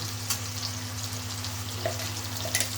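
Ginger and garlic paste sizzling in a hot pan in a home kitchen, a steady close frying crackle with a low hum underneath and a few faint clinks.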